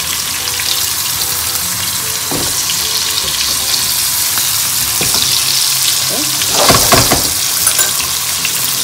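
Saltimbocca meat fries in melted butter in a pan, with loud, continuous close sizzling and a brief burst of sharper spitting and stirring toward the end.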